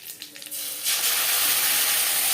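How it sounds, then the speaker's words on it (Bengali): Black mustard seeds and curry leaves hit hot oil over a low gas flame and break into a loud, steady hissing sizzle after a few light clinks, and the sizzle keeps going evenly to the end. "সর্ষে যখন ফুটতে শুরু করে দেবে দিয়ে দেবো কারি পাতা"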